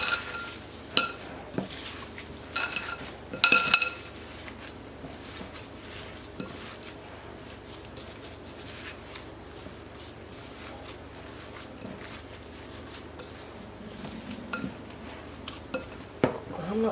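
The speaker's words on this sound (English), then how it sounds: "get this mixed up." Meatball ingredients being mixed in a bowl in a kitchen, with soft stirring and squishing plus occasional clinks of a utensil against the dish, fairly quiet and close, with louder clattering bursts near the start and end.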